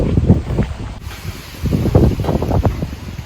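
Gusty wind on a hilltop at Uzhhorod Castle buffets the microphone in strong, uneven bursts of low rumbling, loud and close, with no voices.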